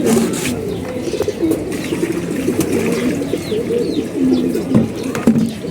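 Pigeons coo steadily and overlapping in a close loft at feeding time, with occasional wing flaps and faint chirps from other birds mixed in.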